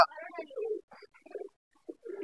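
Pigeons kept at home coo in a few short, close, soft bursts separated by brief pauses, with no voices over them.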